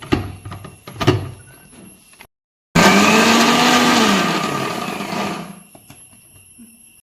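A mixer grinder runs close and loud for about three seconds, grinding roasted horse gram with coconut into chutney, after a few clunks from handling the jar, then winds down with a falling whine.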